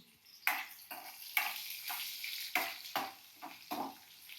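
Cumin seeds frying in a pan on a low flame, with soft crackling sizzle broken by about ten quick stirring scrapes in an uneven rhythm, close and quiet with no talking.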